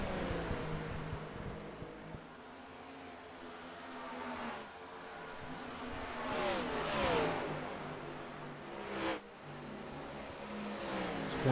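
Race cars in a USORA Cup Series race on track, engines droning and revving as cars sweep past one after another, rising and fading at moderate distance with no talk.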